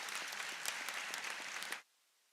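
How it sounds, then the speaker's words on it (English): Steady applause from an audience at a medical school white coat ceremony, dense and sustained clapping that stops abruptly near the end. "Another round of applause for the wonderful coders."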